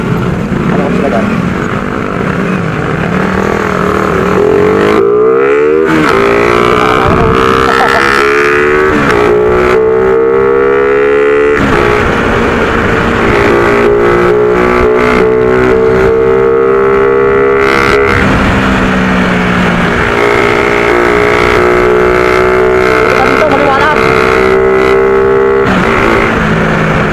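Loud motorcycle engines roar close by in traffic, pitch rising and falling as they rev and pass, with a horn-like tone and occasional talk mixed into the steady din.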